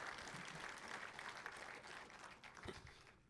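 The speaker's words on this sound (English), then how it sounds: "Please stand so we can give you an applause." Applause from an audience at a city State of the City address, greeting representatives from a local credit union; dense, steady clapping through the moment, fading slightly near the end.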